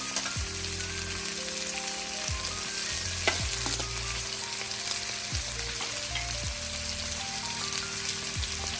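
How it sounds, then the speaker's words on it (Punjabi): Onions fry gently in a pan over a medium gas flame, a steady sizzle with occasional soft pops and stirring scrapes, set under background music. "ਮੀਡੀਅਮ ਜਿਹਾ ਗੈਸ ਤੇ ਹੀ ਆਪਾਂ ਪਿਆਜ਼ ਨੂੰ ਹਨਾ ਹਲਕਾ ਹਲਕਾ ਭੁੰਨ ਲੈਣਾ ਹੈ"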